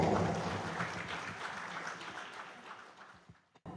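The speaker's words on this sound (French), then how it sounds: "sous vos applaudissements, s'il vous plaît, pour cette présentation" An audience at a finance summit applauds after speakers are introduced, a steady clapping that fades gradually and ends abruptly, with no talk over it.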